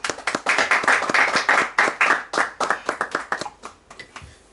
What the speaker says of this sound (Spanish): les pido para los tres un fuerte aplauso